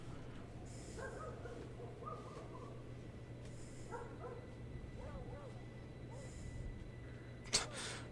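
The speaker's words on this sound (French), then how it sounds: "J'entends des chiens aboyer dans mon quartier" Dogs bark in a neighbourhood, several short yips and barks at a distance, faint under a steady low hum, with a sharp click near the end.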